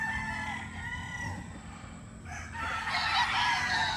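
A Raptor Sweater gamefowl rooster crows nearby on a farm, its long harmonic call rising strongly near the end over faint background noise.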